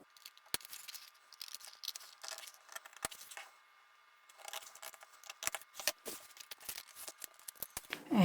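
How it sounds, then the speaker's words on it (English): Paper scissors cutting along the dotted line of a paper bag pattern, with sharp snips and crisp crinkling close by in irregular bursts and a brief pause midway. "Using your paper scissors,"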